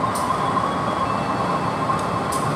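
Logawa passenger train standing at Lempuyangan station, giving a steady, loud rumble with a constant hum, heard on its own without voices.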